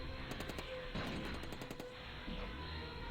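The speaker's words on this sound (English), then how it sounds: "this is the worst sound for an Uzi" Rapid bursts of Uzi gunfire from a Madness Combat animation, several quick volleys of cartoonish shots over a busy, noisy mix, fairly faint overall.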